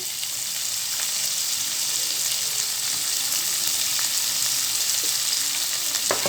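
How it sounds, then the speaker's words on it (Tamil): Onions sautéing in a pan for homemade pasta masala, a dense, even sizzle that hisses continuously close by, with a few faint stirring clicks and no speech. "இது கொஞ்சம் நேரம் வதக்கி கொடுக்கலாம் வெங்காயம் ஓரளவுக்கு வதங்கி வருது"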